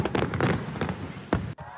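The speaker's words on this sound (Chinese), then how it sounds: "五彩缤纷的烟火绽放， 盛大璀璨，点亮夜空。" Fireworks at an international sea fireworks festival in Penghu burst in rapid loud cracks and booms over a night sky, dense overlapping explosions with one sharp final bang, close and strong.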